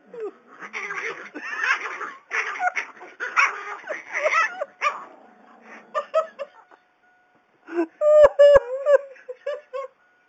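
Dogs in a fight give short yips, whimpers and sharp barks in bursts, close and fairly loud, with quieter gaps between flurries.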